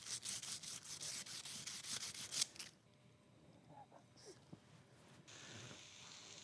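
The outside of a bike fork tube is rubbed to take off its shine in a burst of quick, close scrubbing strokes that stop after a few seconds, followed by quiet shop noise with a few faint knocks.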